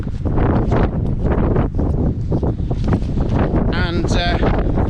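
Severe mountain wind, with gusts near 60 mph, buffets a Hilleberg Soulo tent at Cadair Idris, a loud continuous roar with rustling flaps, and a voice talks over it.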